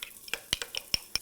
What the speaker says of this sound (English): I'm going to quickly mix together a little bit of light mayo and some ketchup